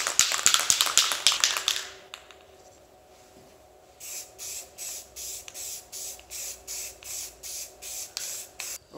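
Spray can applying a second coat of paint to miniatures, heard first as a long loud hiss, then after a quiet pause as a steady series of about nine short, even bursts close up.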